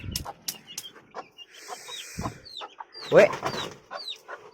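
Hens cluck and squawk in short, agitated bursts while being handled and put into a cage, close by, with a voice calling out between them.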